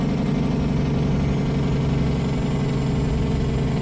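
A stretched custom Kenworth KW900 in American Truck Simulator gives a loud, steady diesel rumble with a low, continuous throb. It is heard close through an open cab window, with no talk.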